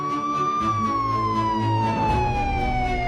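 A police car siren wails steadily and loudly, its tone slowly falling as it approaches over a rumble of road traffic, with no voices present.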